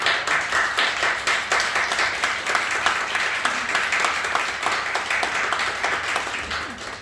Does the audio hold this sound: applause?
yes